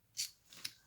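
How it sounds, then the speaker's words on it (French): Two quick close snips of scissors cutting paper while making a bookmark, a crisp first cut followed by a fainter second one less than half a second later. "je vais couper."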